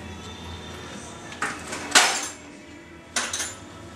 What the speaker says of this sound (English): Get my open end wrench.